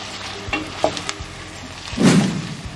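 Sliced peppers and carrots sizzle and fry in a pan for imam bayildi, with a few clinks of stirring and a louder burst of sizzling near the end.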